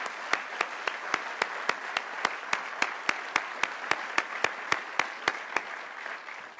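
Steady, evenly spaced clapping at a California State of Education Address, crisp and close, keeping a regular rhythm for several seconds like a single person or small group applauding.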